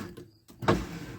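The power window motor in a 1968 Ford Galaxie 500 XL convertible parts car kicks in after a click, giving a short, close, strained whirring hum that lasts about half a second.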